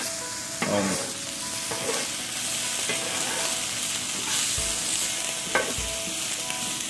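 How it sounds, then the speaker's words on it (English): Weenies roasting and charring in a hot pan, a continuous crackling sizzle near the mic, punctuated by a few sharp scrapes and clanks of a utensil moving them around, no talking. "Besides roasting weenies, getting a real good char on it."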